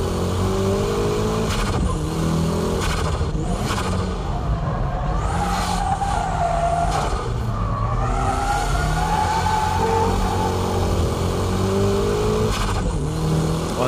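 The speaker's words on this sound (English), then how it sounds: "And from here, it's power drifting." A car power drifts uphill through bends, its engine revving hard and rising and falling in pitch with brief tire squeals, loud and continuous throughout.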